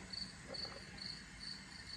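A cricket chirps indoors in short, evenly spaced high trills, faint against a low background hum, repeating about four times.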